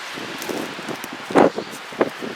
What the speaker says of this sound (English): This is like 50-mile-an-hour winds.